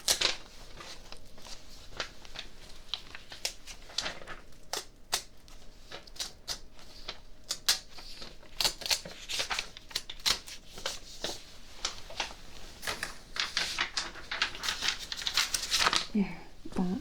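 Pencil scratching across paper in quick, irregular strokes, a dense run of short scrapes and taps that grows busier and louder toward the end, with faint low room noise beneath.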